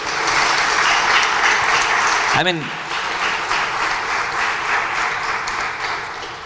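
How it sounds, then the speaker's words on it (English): An audience gives loud, sustained applause after a talk at a startup event, continuous clapping throughout with a brief voice cutting in partway through. "Can we have a huge round of applause?"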